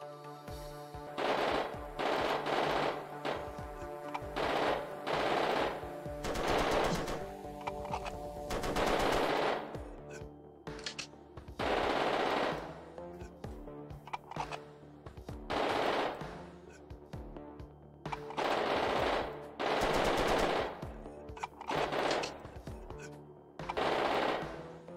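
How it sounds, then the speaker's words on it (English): Bursts of automatic gunfire from a machine gun in the N64 game GoldenEye 007, loud rapid volleys repeating in clusters with short pauses between them. "It's a cool gun, but you definitely burn through that ammo quick"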